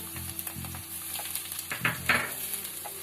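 Tomatoes go into a pan of fried onions and ginger-garlic paste for taro root pulusu, giving a steady close sizzle with a few stirring clinks over a low background hum.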